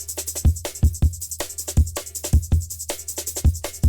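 Punchy drum break from a jungle/DnB track built in FL Studio, with extra layered kicks and snares stacking on the hits; busy, syncopated pattern of heavy low thumps and bright snare cracks, loud and close, no voices.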